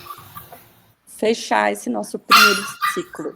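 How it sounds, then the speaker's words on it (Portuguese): A small pet dog yaps in a quick run of sharp, high barks close to the microphone. Indoor speech comes first, then the barks follow in short bursts. "Ah, isso é meu cachorro, gente,"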